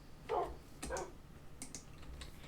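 A dog in a video game gives a couple of short, soft barks and whimpers, quiet and close, followed by light tapping clicks like keyboard typing.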